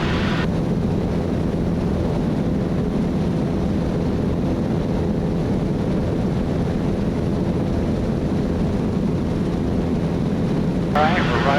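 A small airplane droning steadily in flight on approach, a constant loud engine hum with wind rush throughout, while a pilot talks over it.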